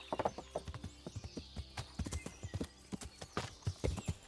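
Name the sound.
horse hooves clip-clopping, Kingdom Come: Deliverance video game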